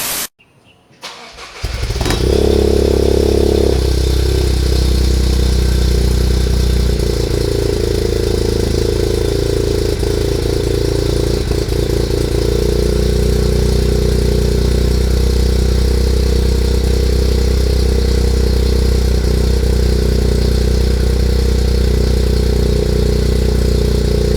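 A Toyota GR Yaris with a catless downpipe exhaust starts up and settles into a loud, steady idle. The deep engine note holds alone and close for over twenty seconds.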